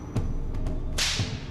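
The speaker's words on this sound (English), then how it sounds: "They will test the effect of the whip on a pig carcass." A scorpion whip lashes a pig carcass, giving a sharp swish and crack around one second into the stretch, with lighter knocks and thuds before and after and no voices.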